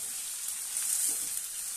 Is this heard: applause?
no